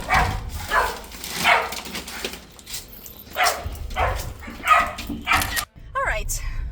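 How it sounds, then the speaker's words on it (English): A dog near a house's front door barks in short yips and bow-wows, several bursts spread over a few seconds, mixed with someone talking nearby. "Hi, dog."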